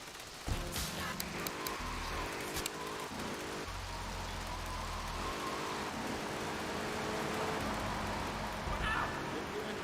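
Steady rain hiss from the video game GTA 3 fills the background, with soft game tones and low hums layered underneath and no talking.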